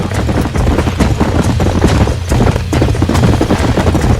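Horse hooves clip-clop rapidly and loudly in the video game Red Dead Redemption, a dense galloping rhythm of close hoofbeats.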